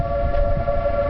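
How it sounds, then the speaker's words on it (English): Tornado warning siren wails as one steady, loud, unbroken tone over low wind rumble, with no voices. "The alarm siren's going off."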